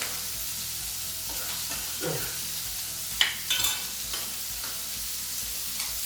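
Apple pieces sizzle steadily in a frying pan for pork chops, with a spoon scraping and stirring through the hiss in a few short bursts and a sharper clank near the middle.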